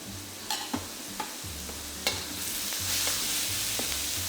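Broad bean paste, grated ginger, garlic and green onion whites fry in a pan for an eggplant dish, a quiet steady sizzle punctuated by several distinct spatula scrapes and taps.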